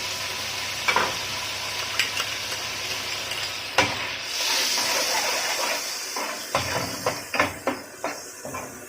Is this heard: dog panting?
no